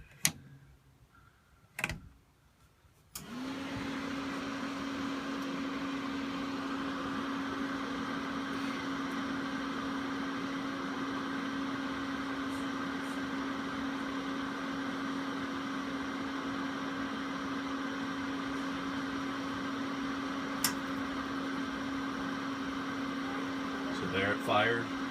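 A Forest River Roo 17 RV furnace lighting up after two brief clicks, followed by a steady droning hum from the blower that runs without break at a moderate level for the rest of the stretch.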